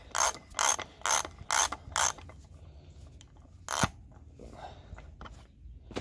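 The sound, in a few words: socket wrench turning on Ford Bronco front hub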